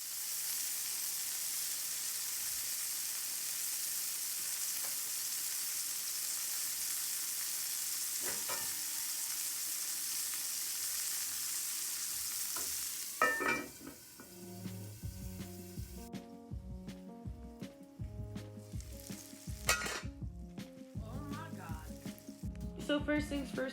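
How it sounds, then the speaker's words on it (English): Steady, loud sizzling hiss of burger patties frying in a hot pan for several seconds, then the hiss drops away and other kitchen noises and sounds follow. "let me add a moment of silence so you can hear this burger sizzle."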